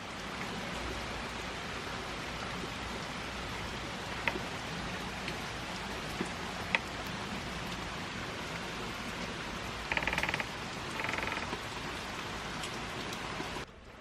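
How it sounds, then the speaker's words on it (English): Steady rain from a thunderstorm hisses evenly over a city garden, with occasional louder drips and a couple of brief splashy bursts near the end. "You hear the rain?"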